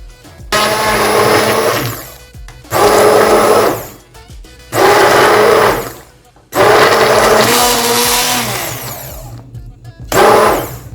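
An electric blender purees three fully ripe bananas in five loud whirring bursts, each a few seconds long, with short pauses of quiet between them.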